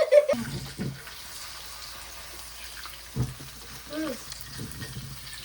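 Sausages fry in hot oil in a home kitchen with a quiet, uneven sizzle. Occasional stirring clatters and spits break through, and a person speaks intermittently over the cooking.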